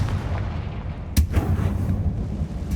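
A Confringo fire spell bursts in Hogwarts Legacy, a single sharp blast punching through a steady low rumble of game sound, followed by a softer echoing crack and continued booming background.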